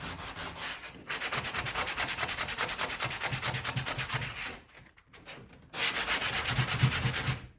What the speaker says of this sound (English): Having this sanding block with the angle like that really makes work like this very good.